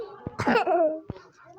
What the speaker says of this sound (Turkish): öksüreceksen bir başka odada öksür